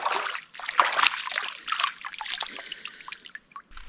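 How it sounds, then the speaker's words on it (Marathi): Stream water is splashed and trickles as hands, feet and face are washed outdoors, with close, soft, irregular splashes and dribbling, loudest early on and then tapering off. "असे जरासे हातपाय धुवायचे आणि नुसतं तोंडावर पाणी मारायचं"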